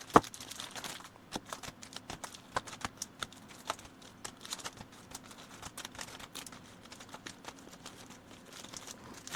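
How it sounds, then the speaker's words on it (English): Playing cards being shuffled, quick riffling bursts of crisp ticks and flutters repeated in a rapid irregular rhythm, fairly faint and close, with no talk. "we're going to shuffle them 6 times"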